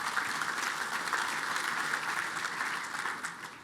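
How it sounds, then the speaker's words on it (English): An audience claps steadily for panelists taking their seats at a payments conference session, a dense, even wash of applause that holds for several seconds and eases slightly at the end. "Give our panelists another big round of applause as they sit down."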